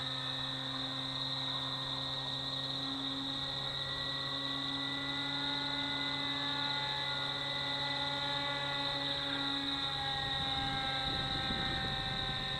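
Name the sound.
FX79 Buffalo RC plane motor at 60% throttle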